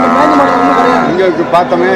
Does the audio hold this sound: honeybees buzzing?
no